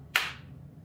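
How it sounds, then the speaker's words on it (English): A single sharp hand clap, close and crisp, ringing briefly into a quiet room before fading away. "All right, I'm gonna clap."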